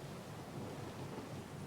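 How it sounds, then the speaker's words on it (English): A thunderstorm in the video game Pillars of Eternity II: Deadfire, with a steady low rumble of thunder and rain washing over everything, faint and continuous, with no voices. "The storm's pretty loud."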